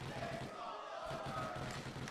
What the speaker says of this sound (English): I don't know what the crowd is chanting.